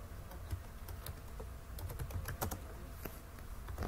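Keys clatter on a computer keyboard while a MySQL table column is entered, a quiet, steady run of light clicks with brief pauses, no voices.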